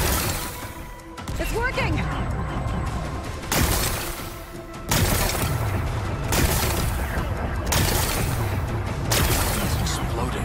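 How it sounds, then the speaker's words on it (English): Rocks blasted apart with explosives in Horizon Forbidden West: loud, repeated booming blasts and crashing debris that come in several bursts, with a voice speaking over them. "Gotta blast away some rocks, so I can expose the power cell."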